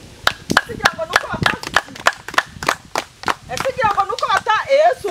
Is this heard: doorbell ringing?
no